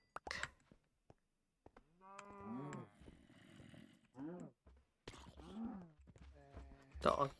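Cows mooing in Minecraft, several drawn-out, low lowing calls in close succession, mixed with player talk and small game sounds.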